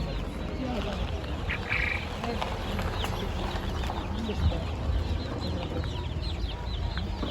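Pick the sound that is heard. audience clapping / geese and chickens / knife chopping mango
geese and chickens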